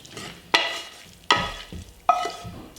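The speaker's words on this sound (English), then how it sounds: "and just give it a stir and let it all kind of soak together" Three sharp clattering stirs, spaced under a second apart, as toasted sourdough bread, whisked eggs, broth and sauteed vegetables are mixed together for homemade stuffing in a bowl, each stroke followed by a soft fading scrape.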